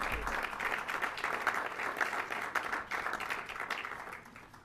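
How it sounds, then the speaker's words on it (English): A crowd at an award ceremony applauds Priscilla Alexander in a dense, steady wash of clapping heard at some distance, tapering slightly as it ends. "Now we can applaud Priscilla Alexander."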